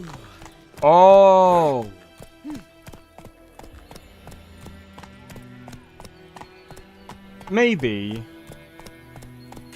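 Roach the horse trotting in The Witcher 3: Wild Hunt: a steady rapid clip-clop of hooves throughout, with a man's short exclamations and game voices breaking over it.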